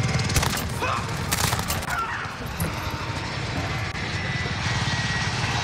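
A Harrier jet killstreak roars overhead in Modern Warfare, a loud, broad engine rush with sharper bursts near the start before settling into a sustained, steady drone.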